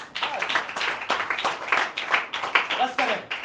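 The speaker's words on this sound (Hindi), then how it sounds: "ये विशाल भाई के लिए जोरदार तालियां" Audience claps loudly in a burst of applause at a Hindi-language religious gathering, a dense patter of hands lasting a few seconds with voices cheering over it.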